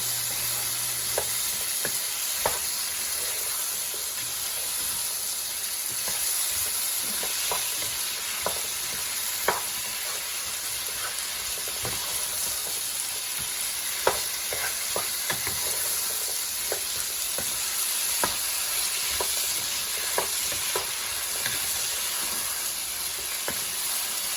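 Zucchini sautéing in a pan for a keto creamy cheese dish, with a constant bright sizzle and hiss under a sparse, irregular series of soft spatula scrapes and taps as the pieces are mixed.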